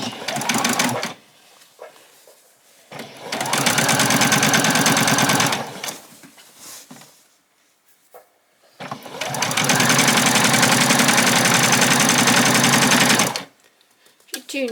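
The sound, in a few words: sewing machine stitching an apron seam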